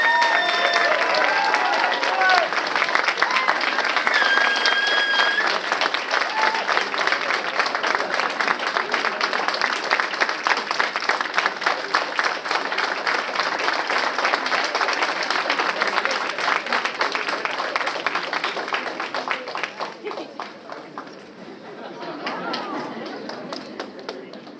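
Audience applause rings out for the youngest graduate of the class of 2025 at Aria University's 7th convocation ceremony: dense, sustained clapping from a large crowd that carries on steadily before thinning and fading toward the end.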